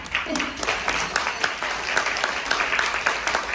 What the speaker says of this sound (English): So we can clap for that.